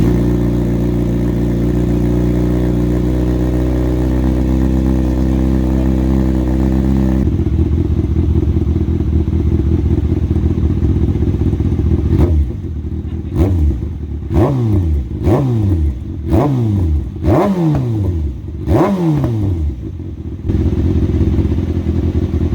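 A Kawasaki ZX6R sport motorcycle engine, just serviced and running on a flat battery, idles loudly up close, then shifts tone and revs in a series of sharp rising bursts.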